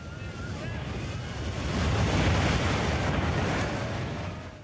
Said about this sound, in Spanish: Es una descomunal avalancha de agua que no deja nada en pie cuando golpea la costa